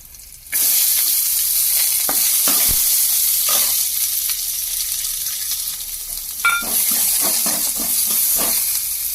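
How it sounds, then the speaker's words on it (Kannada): Onions frying in a pan with green chillies, a loud, close, continuous sizzle starting abruptly, with scattered stirring scrapes and clicks throughout and no talk. "ಆನಿಯನ್ ಬ್ರೌನ್ ಕಲರ್ ಆಗೋ ತನಕ ಚೆನ್ನಾಗಿ ಹುರ್ಕೋಬೇಕು."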